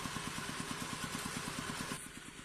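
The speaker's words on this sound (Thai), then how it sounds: "ป้าติ๋มก็ตั้งเครื่องสูบน้ำไว้นะคะ" A water pump engine running beside a natural canal, a steady rapid low thumping putter at close range that drops slightly in level near the end, with no talk.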